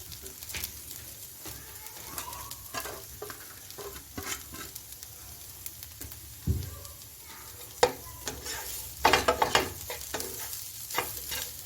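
Chicken and potato stuffing with spices is stirred in a pan as it fries, with a steady soft sizzle and repeated scraping and clacking of the spoon that grows louder near the end, with no one talking.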